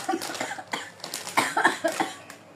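A person coughing repeatedly at close range, several short harsh coughs in quick succession with no speech.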